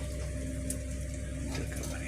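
Water flows steadily into rasam in a home kitchen, a continuous close liquid rush with no distinct splashes.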